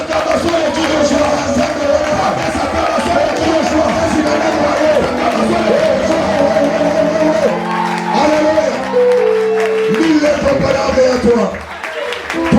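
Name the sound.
congregation cheering and applauding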